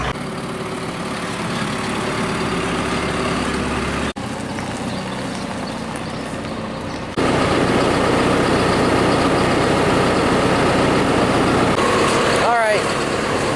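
Tractor engine idling as it backs into a shed, a steady low diesel rumble that drops briefly, then returns louder and fuller, with a short squeak near the end.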